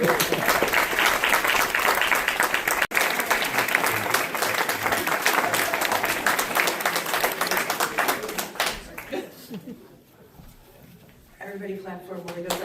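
Audience at a live storytelling show applauds loudly and steadily for a performer named Thomas, dense clapping filling most of the stretch before fading out, with a voice speaking briefly near the end.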